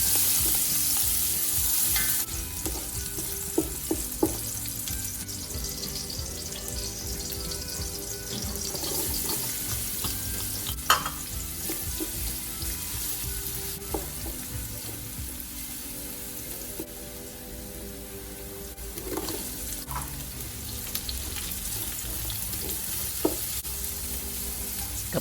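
Ginger, garlic and onion sauté in about two tablespoons of hot cooking oil for chicken arroz caldo, a steady close sizzle running throughout with scattered clicks and scrapes of stirring.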